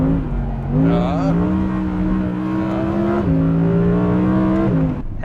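An Audi R8 GT with a V10 engine drives hard on a track, its engine droning loudly and rising in pitch through the gears, with audible shifts and renewed revving.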